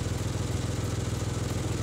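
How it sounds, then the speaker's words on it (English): A car engine idles with an exhaust leak, giving a steady close, rhythmic puttering pulse with no talk. "that is where the exhaust is leaking from"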